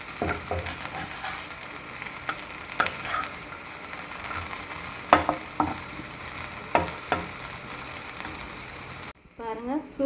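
Slices of elephant yam fry and sizzle in a pan, crackling steadily while they are stirred, with scraping clicks and a brief louder stir near the end.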